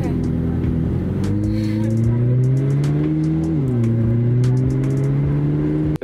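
A supercar launches and accelerates hard, its engine note climbing loud and close through rising revs with a clear gear-shift dip midway and another climb, some high clicks and ticks over the top, ending abruptly.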